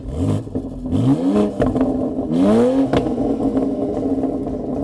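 BMW SUV with a sports exhaust accelerating hard, two rising engine roars with upshifts between them, loud and close, ending in a lower steady drone.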